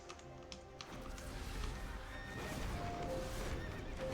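Horses whinny and neigh in a video game over a dense, rumbling background of hooves and game noise, fairly loud and continuous throughout.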